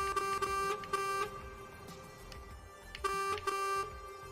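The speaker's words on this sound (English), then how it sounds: "Because we have to honk our horn in a tunnel." Truck horn in Euro Truck Simulator 2 sounded in a tunnel, two groups of steady tonal honks separated by a short pause, close and clear over faint engine hum.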